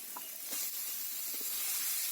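Chicken paste tipped into a pan of frying spice masala gives off a steady, fairly quiet sizzling hiss that stays even throughout, with a few soft stirring knocks and no voices.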